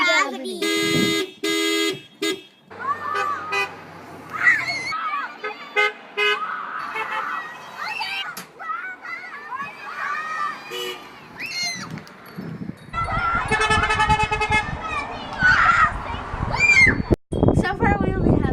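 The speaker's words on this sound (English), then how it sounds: "We're honking the horn for zero gravity." Several passing cars honk their horns on a roadside, giving short separate toots and a few longer blasts between stretches of traffic noise, with excited voices talking and cheering around them.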